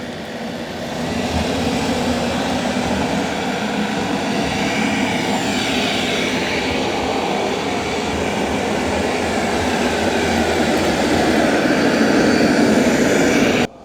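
A Roborock S8 Pro Ultra robot vacuum and mop vacuums nearby, a steady, loud broadband whir with a low motor drone that holds constant for about fourteen seconds, with no talking.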